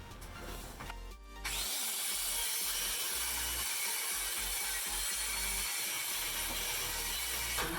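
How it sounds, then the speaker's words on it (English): A circular saw with a guide rip-cuts a long wooden board. The cut is steady and loud, starting after a short spin-up, with a continuous whining, buzzing cut through the wood and no talk. "We're actually going to cut from about 2 inches from this end down to the other end"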